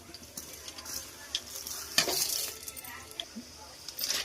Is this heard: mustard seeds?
yes